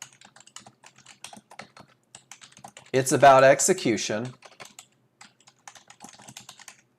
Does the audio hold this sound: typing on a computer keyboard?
yes